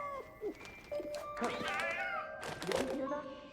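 A cat in the video game 11-11: Memories Retold gives a couple of meows over background game music, the longer call rising near the end of the short stretch.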